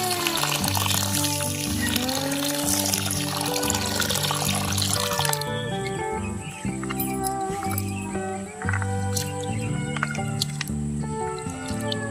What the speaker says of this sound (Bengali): চালটা ভালো করে ধুয়ে নেবো